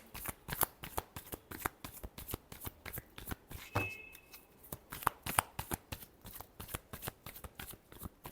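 Tarot cards being shuffled by hand, a rapid run of crisp riffling flicks in a steady rhythm, close and fairly quiet, with no talking.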